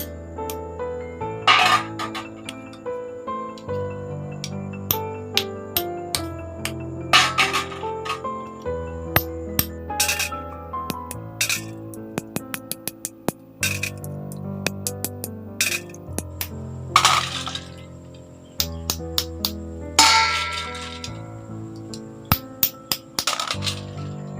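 Freshwater paddy snail shells crack one at a time during food preparation, producing a long series of sharp, dry snaps and clicks at uneven intervals over steady background music.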